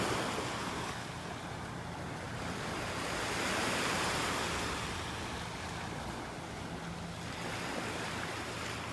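Waves wash onto a Southwest Florida beach, a continuous hiss of surf that swells and recedes in slow surges, mixed with wind noise on the microphone and no voices.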